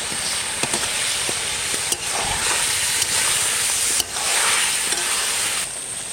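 Country chicken with ginger-garlic paste sizzling in a wok, stirred briskly with a metal spatula: steady frying hiss with repeated scraping strokes throughout, close and fairly loud, no talk.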